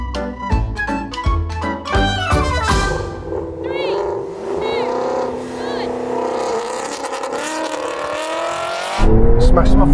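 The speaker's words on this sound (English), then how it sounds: "He's just spinning up his wheels." A Porsche 911 and a Shelby GT350 launch in a drag race with wheelspin, engines revving loudly and tyres screeching in a sustained rising roar, mixed with voices talking over it.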